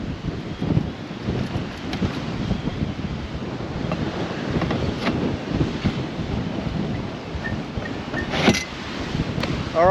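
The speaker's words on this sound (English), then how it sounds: "I'm getting out of this wind. It's killing us." Strong wind buffets the microphone on a tour stop, a continuous roaring rumble with gusty surges that stays loud throughout and no talk over it.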